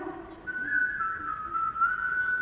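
A lone whistled melody from the 1937 Disney Snow White cartoon carries a steady tune for a couple of seconds over a faint soft background, clear and moderately close.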